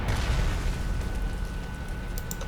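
Artillery bombardment in the wartime strategy game Panzer Corps 2 erupts as one continuous, loud, rumbling explosion with a dense low boom that slowly fades over a couple of seconds.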